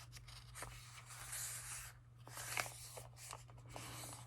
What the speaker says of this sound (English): I've folded my piece of paper and I've folded it again.